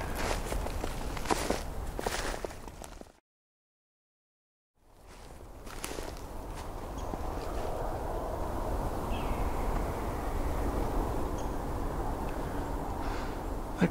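Outdoor footsteps crunch steadily along a path during a winter bird count, close and continuous, with a brief silent gap partway through and faint birds in the background.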